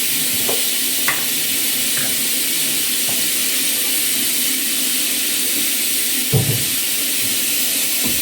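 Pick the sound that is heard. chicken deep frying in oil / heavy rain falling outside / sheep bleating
chicken deep frying in oil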